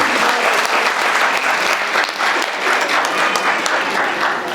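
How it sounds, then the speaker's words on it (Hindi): Applause from an audience at a Hindi literary society function, a dense, steady wash of many hands clapping loudly and continuously throughout, with no voices. "एक बार तालियों से उनका एक बार धन्यवाद करते हैं।"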